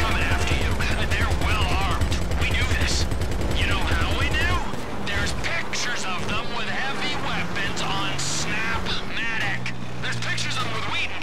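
Gunfire rattles in Grand Theft Auto V, rapid repeated shots dominating the first few seconds, then sporadic bursts and game sounds continue while players talk over the action.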